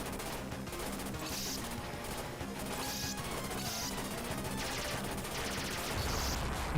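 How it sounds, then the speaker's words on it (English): Rapid machine gun fire and crashing blasts from the NES-era run-and-gun game Super Contra, a dense, continuous barrage of sharp shots with no pause, loud and close throughout. "I didn't want to pass up the machine gun. I get the shots right behind me."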